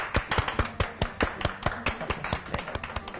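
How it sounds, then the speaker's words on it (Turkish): A single person claps in a kitchen, a quick run of about a dozen close, sharp claps in an even rhythm with no talking. "Alkış bana."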